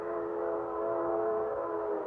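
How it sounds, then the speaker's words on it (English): A train whistle blows one steady, loud, sustained chord throughout, with a low rumble beneath it. "Oh, that train whistle."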